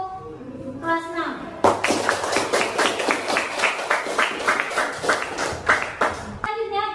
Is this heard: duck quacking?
no